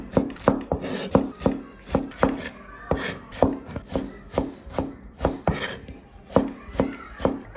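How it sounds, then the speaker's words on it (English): A knife steadily chopping onions and tomatoes on a cutting board, loud crisp knocks in an even rhythm of about two per second, close up with no talk. "He cut rough chop of the onions and he gonna cut lots of tomato."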